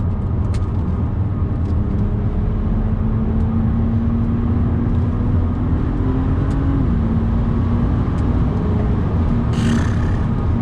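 A BMW Z4 35is under hard acceleration, its engine droning loud and close in steady rising pulls with a brief shift dip midway, over constant road and wind noise, no talk.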